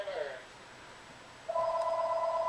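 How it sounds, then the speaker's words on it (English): A telephone rings in the background: a short electronic ring fades at the start, then after a pause a sustained steady ring tone begins and holds, moderately loud and alone. "you'll just have to excuse the phone ringing in the background"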